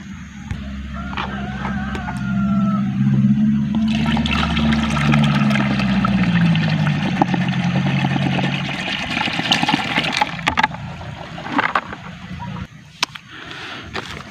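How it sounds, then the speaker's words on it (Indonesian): Dissolved fungicide solution is poured into a 16-liter sprayer tank, a steady splashing gush of liquid that swells in the middle and then tapers into trickles and a few knocks, close and loud. "Kita tuangkan ke tangki 16 liter."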